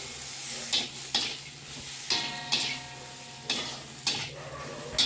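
Kakrol and potato frying in a pan, a steady sizzle with periodic stirring scrapes roughly every second, close and moderately loud, no talking.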